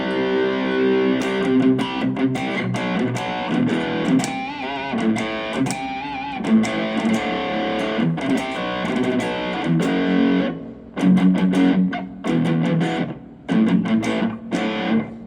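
Distorted electric guitar through a Mooer GE-100 plays chunky rhythm chords, strummed in choppy bursts with brief gaps and palm-muted stabs, loud and up close.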